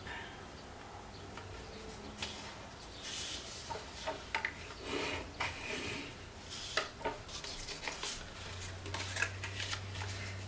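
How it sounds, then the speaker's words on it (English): Square of origami paper being rotated and folded along half marks to crease a rotated grid: soft, close rustling and scraping with scattered crisp crease strokes, steady and unhurried, no speech. "I'm going to rotate the paper so I can fold those half marks up"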